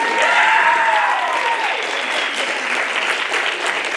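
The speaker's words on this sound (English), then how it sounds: "A round of applause for our artists." Audience applause for the artists at the close of a tied Super Comics Challenge game, a dense steady wash of clapping from a crowd that holds strong throughout, with a faint tonal whistle or squeal early on.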